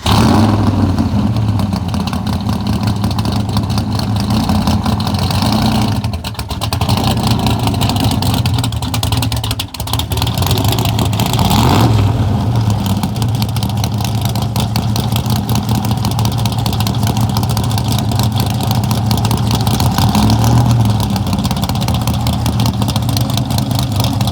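A DX3 427 big block racer, a show-winning classic race car, runs loud and steady throughout, its deep engine rumble holding with brief dips and rising swells of revving, with no talk over it.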